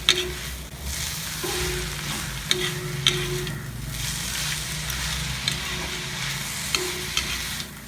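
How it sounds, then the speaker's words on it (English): Raw mango pieces sautéing in a pan, with a steady low sizzle and occasional stirring clinks and scrapes throughout, no talking. "Saute the mango for a few minutes."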